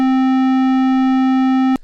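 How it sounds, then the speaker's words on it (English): A steady synthesizer tone holds at constant pitch and loudness for nearly two seconds, then cuts off abruptly into a couple of short bursts. The tone is richer than a pure sine, with clear overtones above the fundamental. "sometimes maybe you want just a sine wave like this"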